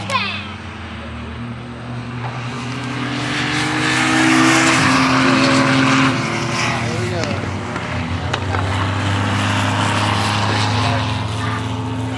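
A Chevrolet Corvair race car's engine revs and sweeps past on a track, hesitating as it fails to clear coming out of a corner, under continuous talking.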